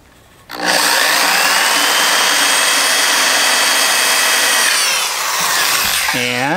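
Power drill with a 3/8 inch bit spinning into metal on a mechanic's workbench, a loud, close, sustained whine that starts abruptly, holds steady for several seconds, then winds down in pitch at the end.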